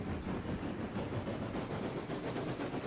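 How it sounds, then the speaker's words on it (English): Steady, loud rumble of a train running in the video game Railroad Online, with a rhythmic clatter of wheels on track and no voices. "So far, my favorite sounding train so far."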